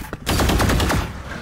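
Rapid automatic gunfire from the Valorant video game, a loud sustained burst of closely spaced shots lasting about a second after a brief quiet start, then trailing off.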